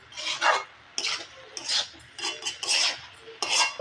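A utensil stirring food in a pan over and over: a scraping, clinking rhythm in repeated strokes, close up and moderately loud, with no talk.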